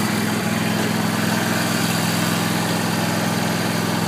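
A Scag STC52V-23BV riding mower engine idles steadily with a loud, constant low rumble and even mechanical hum throughout, with no change in speed.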